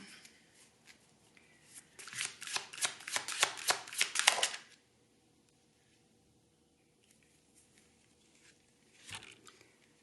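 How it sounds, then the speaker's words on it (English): Tarot cards being shuffled by hand before a card is pulled: a close, soft riffling flutter lasting a couple of seconds, then quiet with a few faint card taps and handling sounds. "I'm going to pull another card for this before we move on."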